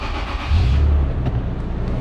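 A 2007 Toyota FJ Cruiser 4.0L engine cranks and catches, a short starter churn followed by a loud, low engine burst that settles into a steady close idle.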